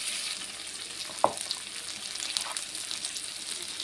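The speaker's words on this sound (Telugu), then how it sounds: "ఇది ఫ్రై అవ్వాలి." Curry sizzles in a pan, a soft, steady frying hiss held at a low level, with one brief clink of a utensil partway through.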